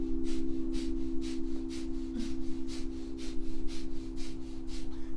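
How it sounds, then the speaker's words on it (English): Breath of fire yoga breathing, with rapid rhythmic panting in and out through the nose at an even pulse of about two breaths a second, close and moderately loud over a steady low hum. "It's a rhythmic breathing in and out through the nose."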